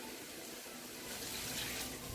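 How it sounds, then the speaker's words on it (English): Water running steadily into a cooking pot of Efik-style okra soup with Maggi and spiced meat, a continuous close splashing pour with no speech. "So I'm going to go ahead and add water right now."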